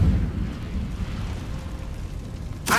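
Incendio fire spell cast in the video game Hogwarts Legacy: a low, rumbling burst of flame that fades into a soft roar, then a sharp bright whoosh at the very end.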